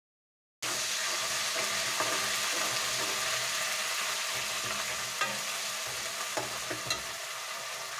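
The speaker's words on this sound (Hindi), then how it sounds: "प्याज इसमें हम डाल देंगे उसको हम ब्राउन होने तक इसको फ्राई करनी है" Steady, loud sizzling of onions frying in a hot pan, with a few faint clinks of a utensil stirring partway through; no voices.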